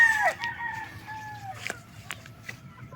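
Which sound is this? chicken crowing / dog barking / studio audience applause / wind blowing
chicken crowing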